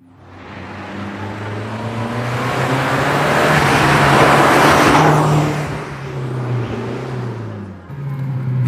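A 1994 Lancia Delta HF Integrale Evo II drives past close and loud, its engine note swelling through acceleration to a peak around four to five seconds, then easing off and picking up again, with no talk.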